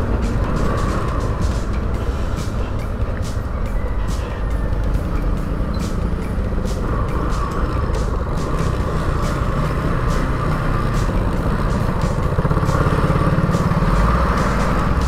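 Road traffic along the MRT 7 construction route from Fairview toward Bulacan, a dense continuous wash of truck, bus and motorcycle engines with no talk.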